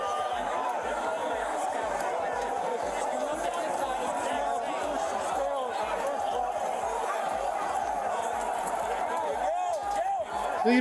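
Crowd noise from protesters at the Capitol plays back from a recording, a dense, continuous roar of cheering and chatter with overlapping voices that stays loud and steady throughout.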